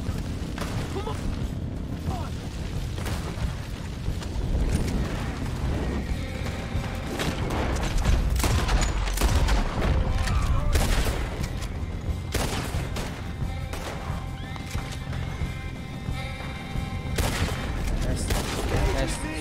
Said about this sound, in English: Warning shots these, mate.